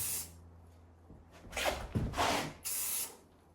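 A few short close bursts of spray paint hissing onto the tail of a wake surf board, three or so distinct puffs separated by brief pauses.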